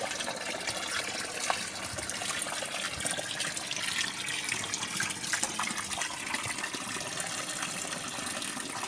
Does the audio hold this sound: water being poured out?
yes